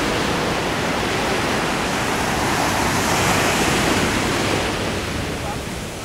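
Sea surf rolls onto a beach at Alanya, Turkey, a steady, dense wash of breaking waves with wind noise across the microphone, continuous and loud throughout.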